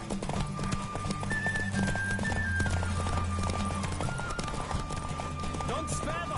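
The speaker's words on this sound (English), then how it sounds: "Don't spare the horse!" A horse gallops in The Witcher 3 with a rapid clip-clop of hooves under a continuous music score, while voices talk over the ride.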